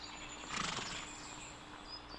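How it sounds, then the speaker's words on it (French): A horse whinnies once, fairly close, in a 1962 drama set at a horse show, with a steady hum of background ambience around it. "C'est un magnifique cheval que vous avez là."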